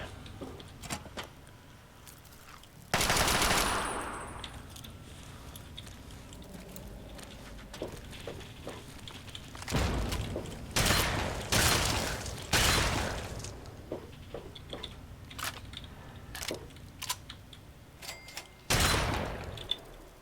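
Gunfire in Fallout 3 inside a Robco facility, scattered sharp shots and bursts spread irregularly over the stretch, some loud and close, with quieter mechanical clatter between them and no talking.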